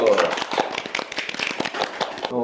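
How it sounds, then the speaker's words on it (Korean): A small group clapping together in a quick, loose burst at an event for newly passed accountants, close and fairly loud, with voices cheering over it. "박수!"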